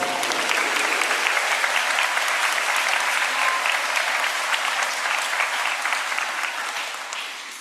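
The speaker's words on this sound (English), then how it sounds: "Let's give them a round of applause." A school convocation audience breaks into loud, sustained applause, dense crowd clapping that holds steady for several seconds before gradually tapering off near the end.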